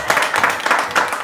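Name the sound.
audience clapping loudly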